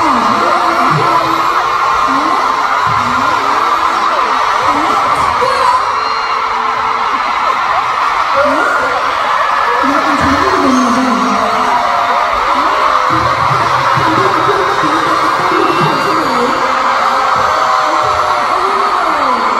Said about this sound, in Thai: เสียงกรี๊ดเมื่อกี้อ่ะค่ะดังที่สุดเท่าที่เราทําคอนเสิร์ตมา